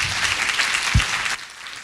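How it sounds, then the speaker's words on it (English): An audience claps for panelists after a talk on transitioning children with disabilities, a brief burst of full-room applause that cuts off abruptly near the end. "Please join me in a round of applause for our panelists."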